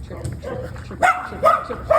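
Small and large dogs at a dog daycare bark and yip in several close, loud bursts, with a person talking over them.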